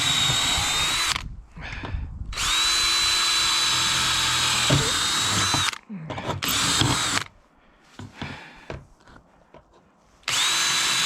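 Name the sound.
power drill pre-drilling holes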